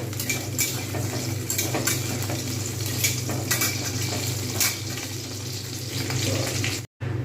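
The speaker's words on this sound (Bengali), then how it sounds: "বড়িগুলো আগে আমি ভেজে নেবো ভালোভাবে লাল করে ভেজে নেবো" Bori lentil dumplings frying in mustard oil in a pan make a continuous close crackling sizzle, with light utensil clinks and scrapes now and then and a brief dropout near the end, no voices.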